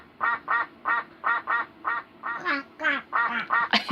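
A human voice imitates a duck, producing a steady series of about twelve nasal quacks in even rhythm, close and clear, with nothing else sounding around it.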